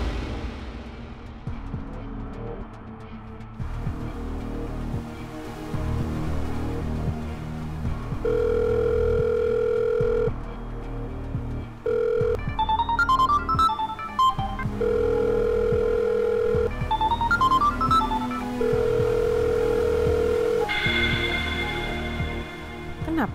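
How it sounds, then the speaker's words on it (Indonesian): A telephone call rings repeatedly and goes unanswered, a steady electronic ringing tone in regular bursts over background music from a drama scene. "Kenapa sih Mas Faris gak angkat telepon aku?"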